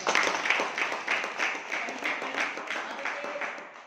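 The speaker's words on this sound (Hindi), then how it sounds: "चलिए सर के लिए जोरदार तालियां" A gathered group claps for a guest, brisk applause from a modest crowd that starts strong, pulses slightly and gradually tapers off.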